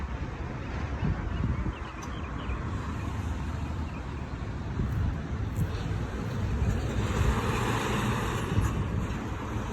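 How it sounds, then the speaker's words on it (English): A steady breeze blows outdoors near a road, producing continuous broadband rushing and buffeting against the microphone throughout, with a faint traffic hum underneath. "And the breeze is blowing really good."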